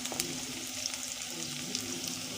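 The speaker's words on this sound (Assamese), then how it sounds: "ইয়াত পিঁয়াজটো অলপ ভাজিছোঁ।" Chopped onion fries in hot oil in a pan over lowered gas, giving a continuous close sizzle with small pops and the occasional scrape of stirring.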